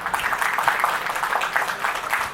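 Audience applause at a medical doctors' welfare society gathering, a steady wash of many hands clapping at moderate volume, continuous and fairly close.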